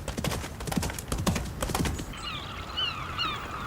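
A horse clip-clops close by with a quick run of hoof strikes, then gives a clear whinny that ends the sound, loud and with no talk over it.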